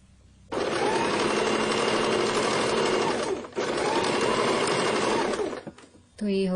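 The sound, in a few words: sewing machine stitching blouse fabric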